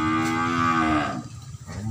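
Cattle at a breeding cattle farm in Vietnam let out a single loud, drawn-out moo close by, followed by quieter farmyard noise.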